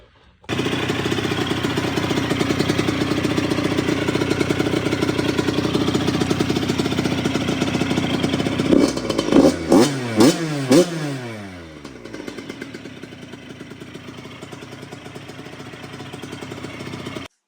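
An old, cold Yamaha YZ85 two-stroke dirt bike with a slightly leaking carb is kicked and runs with a loud, steady buzzing idle, then gives several sharp revs in a row before settling back to a lower, quieter idle.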